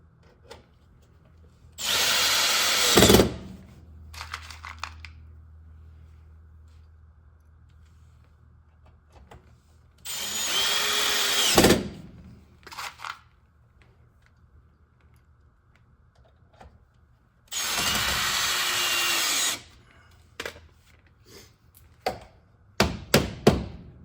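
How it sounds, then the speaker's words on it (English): A power drill drives screws into wooden wheel well trim on a trailer, with three separate whirring bursts of a couple of seconds each, separated by quiet pauses and followed by scattered light taps and clicks. "you can hear the difference between a screw that's already been drilled and me putting in new ones"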